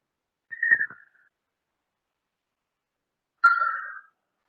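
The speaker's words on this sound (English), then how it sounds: "Malabar whistling thrush song is very beautiful." Malabar whistling thrush song from a Western Ghats stream valley: two clear, human-like whistled phrases separated by a long silence, the second stronger and slightly longer, heard alone.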